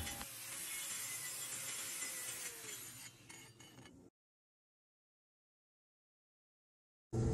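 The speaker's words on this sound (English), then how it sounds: "I use a tool called a rasp, and what this does, it roughs up that other claw there so that the glue will stick better to the hoof" A hand rasp scrapes steadily across a cow's hoof claw, roughing it up with close, continuous gritty strokes for about four seconds. Silence follows, then a brief knock at the very end.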